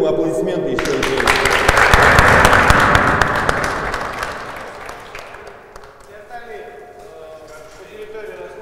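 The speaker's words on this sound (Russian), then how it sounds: "Я думаю, аплодисменты еще и есть." A boxing club crowd applauds its trainer, a dense burst of clapping that swells for a few seconds and then fades into room murmur.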